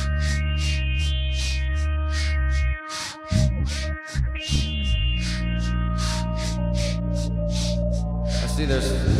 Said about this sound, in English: still the reverb on